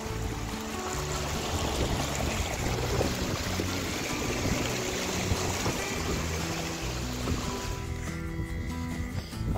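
Stream water rushes and churns steadily at a stream crossing on a nature trek near caves and waterfalls in Maval, loud and close throughout with no break.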